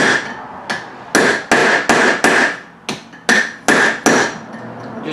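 A hammer strikes a chisel about ten times in an uneven rhythm, cutting a bolt head off during flywheel work on a 1995 Murray rear-engine mower; each blow is a loud, close metallic clank with a short ring.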